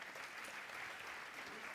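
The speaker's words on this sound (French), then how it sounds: "On peut vous applaudir." An audience applauds at a French awards presentation, steady dense clapping from a crowd, fairly faint and continuous.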